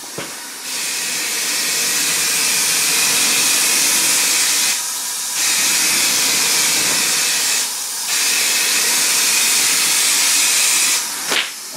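An aerosol spray paint can hisses in long, steady bursts while coating the inside of an Opel Kadett being prepared for motorsport, with short pauses between passes and no talking.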